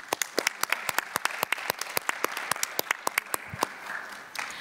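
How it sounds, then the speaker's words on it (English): Applause for a speaker at a conference parallel session on access to health, a small group clapping in sharp, fairly regular slaps, close and moderately loud, thinning out near the end. "A round of applause, please, for Anna."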